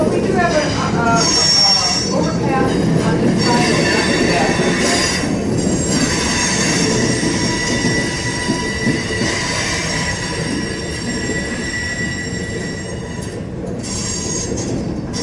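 A Norfolk Southern train rolls steadily past on the tracks into a rail yard in Elkhart, Indiana, wheels squealing and clattering continuously at close range for the whole stretch.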